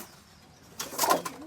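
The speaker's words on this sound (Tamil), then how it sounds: "சரி வாங்க நம்ம போயிட்டு உள்ளே இருக்க புறாவெல்லாம் பார்க்கலாம்." Pigeons in a coop give a short burst of close, soft cooing that starts partway through, after a quiet opening.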